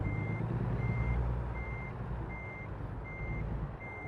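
A truck backing a trailer in American Truck Simulator, with a steady reversing beeper pulsing in an even rhythm over a constant low diesel engine rumble, at night with no talking.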